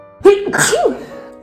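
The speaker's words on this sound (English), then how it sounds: "don't forget to sneeze" A single loud, close sneeze: a sharp inhaled buildup followed by an explosive burst that trails off, with no other sounds around it.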